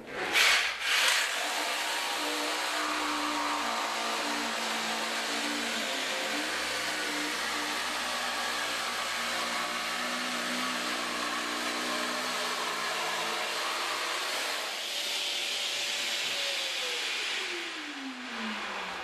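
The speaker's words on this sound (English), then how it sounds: "So now I can cut this laminate material, it's going to be 90 degrees" A Festool PSB 420 EBQ pendulum jigsaw cuts through laminate material in a steady, loud, continuous buzzing drone that winds down in pitch near the end, with no talking.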